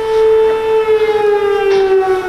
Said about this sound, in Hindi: ये खतरे का सायरन है